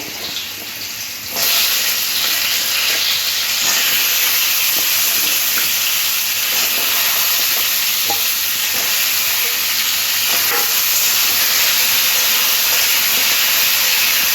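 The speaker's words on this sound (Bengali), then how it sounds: "কুমড়োর টুকরোগুলো দিয়ে দিচ্ছি তেলের মধ্যে" Pumpkin pieces drop into hot mustard oil, where the spices have reddened, setting off a sudden loud, steady sizzle and hiss that holds strongly throughout, with faint stirring clicks.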